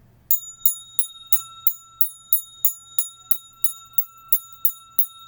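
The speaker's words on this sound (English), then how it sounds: "Ring the bell." A bell is rung for a household ritual honoring ancestors, with about fourteen bright, evenly spaced metallic strikes, each ringing briefly before the next, close and clear over a quiet room.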